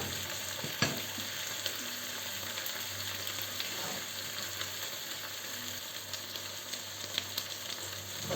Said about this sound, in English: If I had a hotter wok, it would be much better to hold the heat.